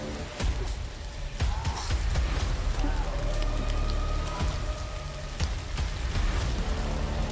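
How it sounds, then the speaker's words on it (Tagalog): Heavy rain pouring down steadily, a dense broadband wash with scattered louder drips and splashes close by, loud throughout, with faint voices murmuring underneath. "Lakas na yung ulan eh."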